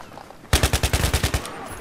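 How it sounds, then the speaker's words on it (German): A rapid burst of assault rifle fire from Battlefield 3 cracks out loud and close after a half-second of quiet, roughly ten sharp shots in a quick rhythm before trailing off. "wenn ich jetzt aber Burst Shot mache, also praktisch immer so antippe"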